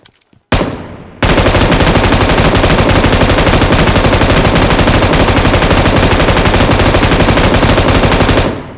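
An M249 machine gun fires in a video game: a short opening burst, then a loud, unbroken rapid-fire stream of shots lasting about seven seconds before it cuts off.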